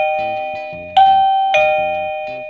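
A wireless home doorbell at maximum volume plays a loud, clear electronic chime melody, with two sharp strikes and tones ringing out between them.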